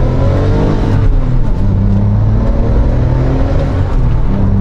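A 2007 Porsche 911 Turbo with a manual gearbox accelerates hard, its loud, steady engine roar pulling continuously and close by with no talk over it.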